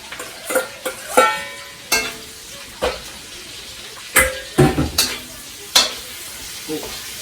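Carrots are stir-fried in a pan for Ilokano-style pancit canton, giving a steady soft sizzle broken by sharp scrapes and clinks of a utensil against the pan at irregular intervals, close and clear.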